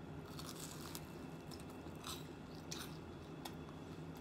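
A small child bites and chews a crunchy breaded, deep-fried giant scallop, giving several sharp crisp crunches scattered over quiet, close chewing, with no talking.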